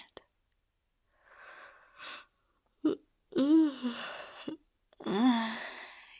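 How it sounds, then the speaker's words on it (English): Breathy, drawn-out yawning sounds with a moaning, voiced stretch, close to the ear, separated by short breaths and pauses. "I'm yawning, but I can't sleep."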